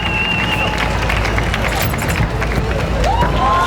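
An arena crowd at a Karate Combat event roars and cheers for a fighter's backflip, a dense, loud wash of voices with shouts and whistles rising over the babble.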